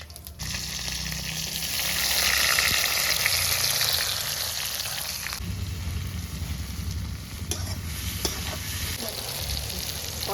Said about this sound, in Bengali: আমি কয়েকটা তেজপাতা আর একটু জিরা ফোড়নে দিয়ে দিচ্ছি মাংসটা বসানোর জন্য।